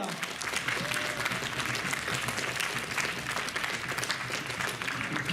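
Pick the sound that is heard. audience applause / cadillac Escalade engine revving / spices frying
audience applause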